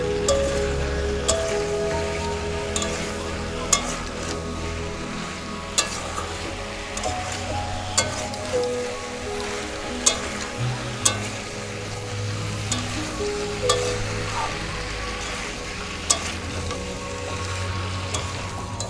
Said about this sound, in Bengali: এবার একসাথে এগুলোকে একটু হালকা করে কষবো।